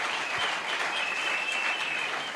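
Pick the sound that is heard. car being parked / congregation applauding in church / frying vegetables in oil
congregation applauding in church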